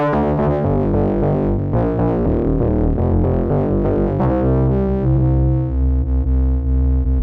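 A sustained, harmonically rich Novation Summit or Peak synthesizer chord progression with a washy, reverberant tail, played loud and alone with no voices.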